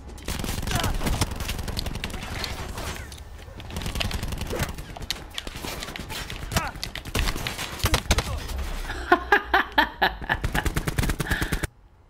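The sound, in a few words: gunfire in a gunfight, Call of Duty Black Ops 4 video game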